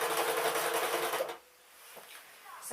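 A sewing machine stitches a seam on a pink dress, a dense steady mechanical whir running loud for over a second, then stopping into quieter handling noises and a brief restart at the end.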